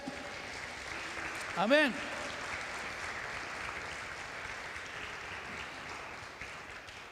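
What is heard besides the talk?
church congregation applauding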